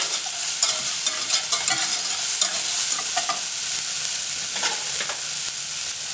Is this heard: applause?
no